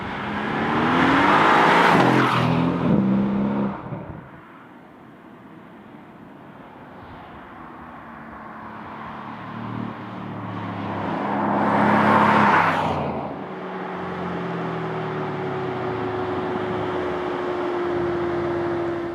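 A Mercedes-AMG C63 S Coupé, facelifted C-Class, runs its engine at full throttle near 175, a loud roaring surge that fades into steady wind and road noise, then swells again with a second rise before settling to a cruising drone.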